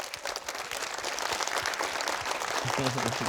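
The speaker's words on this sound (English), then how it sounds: "Now let's give a round of applause for Mr. Cook." A school audience applauding steadily, dense clapping at moderate distance, with a voice cutting in near the end.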